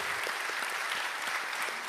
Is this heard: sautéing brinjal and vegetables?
no